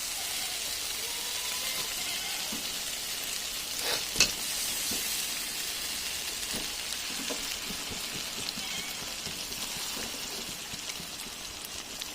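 Meat being added to spiced oil in a pan for kosha mangsho, with salt and turmeric, gives a steady close sizzling hiss throughout, with a brief clatter near the middle and no talking.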